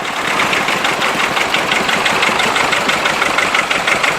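A vintage tractor engine idles steadily at a rally arena, a loud, continuous mechanical rumble with a faint rhythmic knock running throughout.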